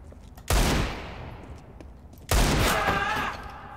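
Two loud gunshot bursts in a video game, each a sharp blast followed by a rattling decay, about two seconds apart.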